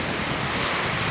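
Choppy sea waves on the windy coast at Skagen, Denmark, a steady loud roar of surf mixed with wind buffeting the microphone, continuous with no pauses.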